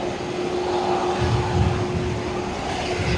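A jet airliner taxis across a taxiway at Brisbane Airport, giving a steady engine hum and whine that holds at an even level from a moderate distance.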